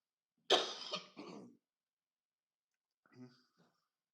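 A close, harsh cough comes in a quick burst of two or three hacks, followed after a pause by a softer throat-clearing sound.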